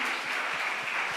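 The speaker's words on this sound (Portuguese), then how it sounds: "Você pode dar um aplauso a ele nessa noite?" Brief burst of congregation applause during an evening church service, steady and dense clapping with no voices over it.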